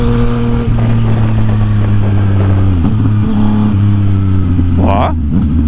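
A Yamaha MT-09 motorcycle engine drones steadily while riding on a country road, with pitch dips as gears are shifted by a rider wearing boots and a brief rev near the end, under a man's speech.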